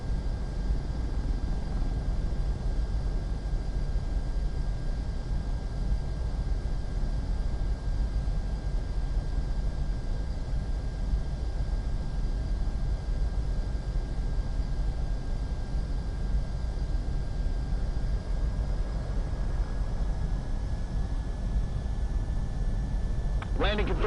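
Aircraft landing on a runway in Ace Combat: a steady, loud engine roar and broad wind-like rush that holds for the whole stretch, with a thin high whine running through it.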